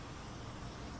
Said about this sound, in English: And then we're going to take our spot blender again, and we're going to go ahead and spray it